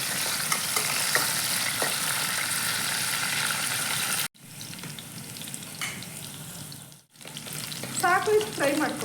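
Chopped onion frying in a pan for a mutton keema gravy, a steady close sizzle with stirring scrapes, briefly cut off twice before resuming with bubbly crackling.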